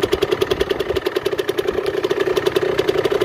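A repaired 50cc moped engine idles close by in a rapid, slightly uneven two-stroke putter, loud and steady throughout.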